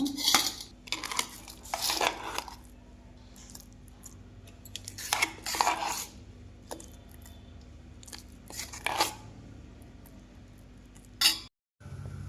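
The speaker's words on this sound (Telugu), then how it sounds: "మిక్సీ ఇప్పుడు గిన్నెలో తీసేసుకుందాము" Scattered scraping and clinking of a spoon scooping urad dal chutney from a metal mixer jar into a bowl, in short bursts separated by quiet pauses.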